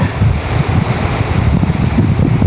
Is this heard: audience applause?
no